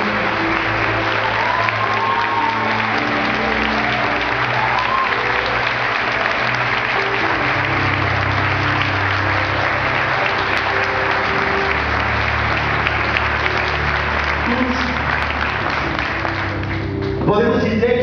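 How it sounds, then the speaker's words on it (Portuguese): A church congregation at a missionary service applauds in a long, sustained roar of clapping that fills the room evenly and dense for most of its length. "Você pode aplaudir o Senhor Jesus?"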